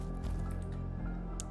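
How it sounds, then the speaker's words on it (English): Water drips somewhere beyond a closed passage in the haunted-house mystery game The Seance of Blake Manor, soft wet drops and squishy trickles sitting over a low ambient game drone with no talk. "I closed up well, but I can hear water on the other side"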